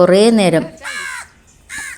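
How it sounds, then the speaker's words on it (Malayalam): Three harsh crow caws ring out close by from crows on a compound wall, the first drawn out and the next two shorter, with brief pauses between them. "ഒരുപാട് കാക്കകൾ വരാറുണ്ട്"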